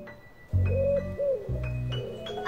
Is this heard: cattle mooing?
no